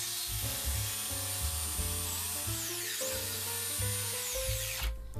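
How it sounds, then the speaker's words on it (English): A jigsaw cuts speaker and port openings in a Bluetooth speaker enclosure, its motor whining close up with the pitch rising and falling as the blade bogs and frees, steady throughout with a brief break near the end. "Now it's just a matter of cutting on the lines with the jigsaw."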